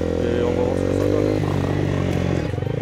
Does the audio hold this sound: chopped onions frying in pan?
no